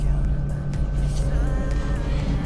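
A car engine runs steadily during a test drive at a good idle speed, with a constant low hum and no talking over it.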